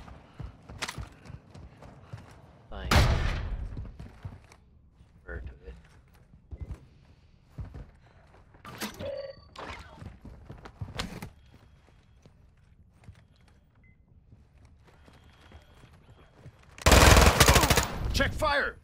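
Gunfire in a first-person shooter game: loud bursts of shots go off at intervals, with clusters of sharp cracks and one long heavy volley near the end, mixed with players talking over voice chat.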